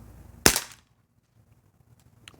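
A Bear River 4-inch revolver fires one sharp, close shot, a short snapping burst that cuts off quickly into near silence. A small click follows shortly after.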